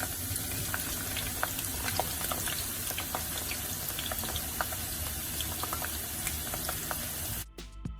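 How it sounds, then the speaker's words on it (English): Spiral-cut potato sticks fry in hot oil with a steady, dense bubbling sizzle and scattered crackles throughout, cutting off abruptly near the end. "Now, let's fry these spiral potato sticks and cook them properly."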